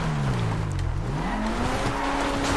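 Tires squeal in a long, loud handbrake skid as a car slides in GTA V roleplay, the screech bending down then rising again over steady engine noise, with no voices.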